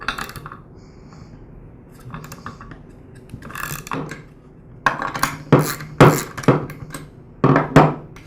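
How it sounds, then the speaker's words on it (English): Metallic clinks and clanks come up close as a nut and fan are removed from a Ryobi handheld gas blower, starting quiet, then growing into a loud run of sharp tool-and-metal knocks. "Now I can remove the nut and the fan."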